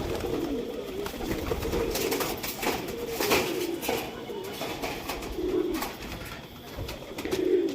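Pigeons at a pigeon race loft coo in soft, repeated low throbbing calls, near and steady throughout, with faint background noise and no clear talk.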